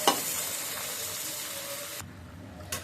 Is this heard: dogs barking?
no